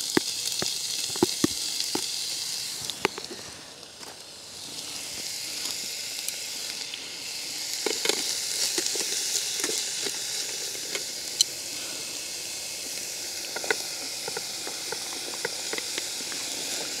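Bacon and onions frying in a pan during outdoor cooking, giving a steady close sizzle and hiss with scattered pops and crackles throughout, no voices.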